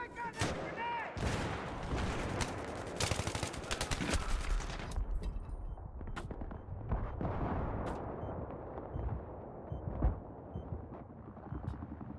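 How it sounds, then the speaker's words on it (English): Battlefield 3 combat on PS3 with a grenade blast amid dense gunfire and rumbling explosions, loud and continuous at first, then thinning to scattered shots and booms, with voices over it. "Wake up, that's a grenade!"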